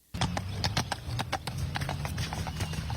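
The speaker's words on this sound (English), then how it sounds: "Here's some Cleveland police horses that escaped off I-90." Cleveland police horses on highway I-90 give a steady, close clip-clop of hooves on pavement, the quick irregular strikes running continuously throughout.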